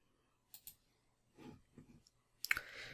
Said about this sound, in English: And then tick the remember me and then just click login.